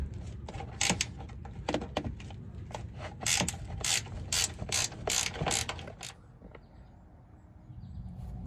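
A ratchet clicking rapidly in bursts as bolts are loosened from the front fender of a Cadillac CTS, close and crisp, pausing between runs, then fading to quiet shop ambience.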